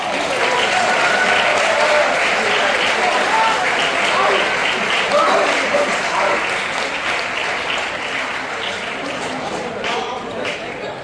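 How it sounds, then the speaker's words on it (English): At a commencement dinner, a large seated crowd gives loud, sustained applause for Hong Kong SAR, a thick even roar of clapping with chatter underneath that slowly thins toward the end. "Let's applaud for Hong Kong SAR"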